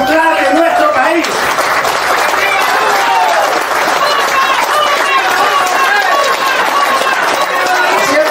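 A crowd at a political rally applauds the country's president loudly and steadily, dense clapping mixed with cheers and raised voices throughout.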